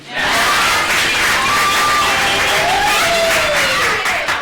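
New students at a welcome event in Mwene-Ditu shout chants together, a loud, continuous crowd roar with rising and falling voiced cries throughout.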